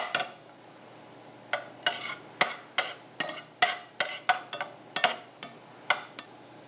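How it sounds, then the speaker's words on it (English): Mushrooms stirred in a frying pan with a utensil, about a dozen sharp scraping clacks against the metal in an irregular rhythm, close and clear over a faint background hiss. "And then stir the mushroom again."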